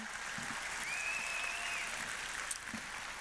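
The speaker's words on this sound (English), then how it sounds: "Let's give them a massive round of applause because this is really rare." A business audience gives a round of applause at a training event, a soft and fairly distant wash of steady clapping with a faint whistle-like tone passing over it partway through.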